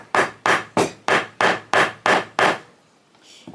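Metal wire for dragonfly earrings is struck by a hammer in eight evenly spaced, sharp taps about a third of a second apart, close and clear, followed by a quiet pause and faint shuffling.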